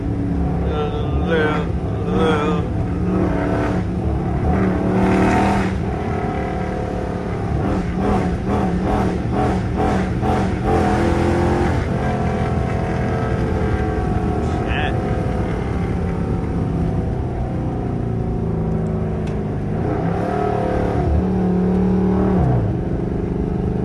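Car accelerating on a road, a continuous rumbling engine note that rises and swells under throttle, heard from inside the cabin with someone talking over it.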